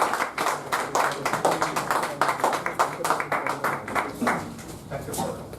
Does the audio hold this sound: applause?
yes